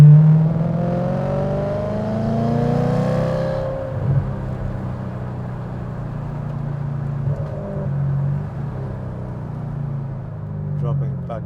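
Ferrari 4.2 V8 in a Maserati Cambio Corsa pulls through second gear, a steady loud engine drone with rising harmonics, a brief shift around the middle, and someone talking over it.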